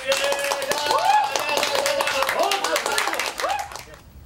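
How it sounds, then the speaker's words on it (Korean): A theater audience at a stage play claps in an uneven patter of individual hand claps, with voices calling and laughing over it, tapering off near the end. "응원의 박수를 모아 보내줍시다."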